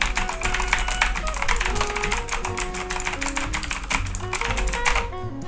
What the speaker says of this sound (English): this is what it sounds like. The Otemu